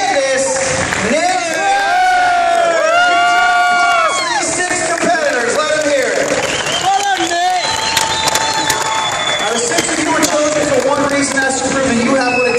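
A live Fear Factor stage show audience claps, cheers and whoops loudly while an amplified host voice talks over the crowd with a ringing tone, continuous and energetic.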